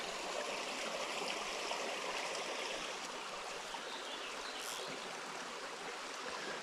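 A small creek streams and trickles steadily, a continuous close wash of flowing water with no voices, fairly soft and even throughout.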